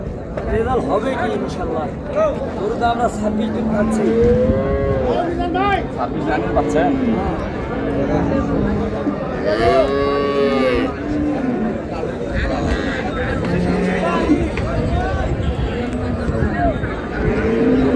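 Several dairy cows and calves moo in low, drawn-out calls amid a busy crowd of people talking and chattering nearby at Raniganj cattle market in Dinajpur.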